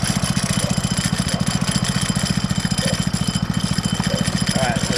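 A go-kart's small engine idles just after a pull start, a fast, even putter of rapid pulses, loud and close, running without a break under light rattling.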